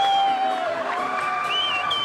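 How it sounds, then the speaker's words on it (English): Crowd at a men's and women's four-player volleyball finals, a loud sustained roar of cheering and whoops filling the space, continuous throughout. "There's the crowd."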